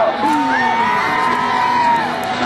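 A crowd at a jousting show at the Lincolnshire Show cheers for a French knight, with loud sustained whoops and yells rising together.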